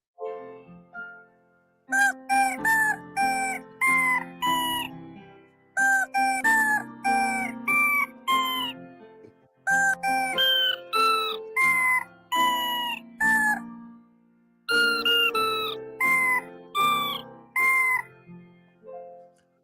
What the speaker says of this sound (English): I'm impressed with the chicken's ability to sing happy birthday better than me